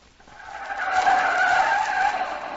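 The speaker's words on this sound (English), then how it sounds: "Throwing on their brakes in front of a wayside service station." A car brakes hard and its tires skid in front of a wayside service station, a rising squeal that holds loud and steady for a couple of seconds, heard alone.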